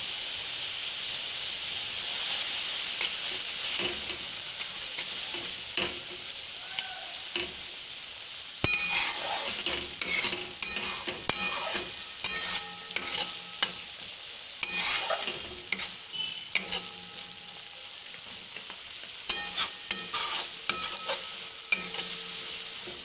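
Green banana peel paste fries in a kadai until its water cooks off. A soft steady hiss at first gives way to repeated scraping and stirring strokes of a spatula over continuous sizzling, close and fairly loud.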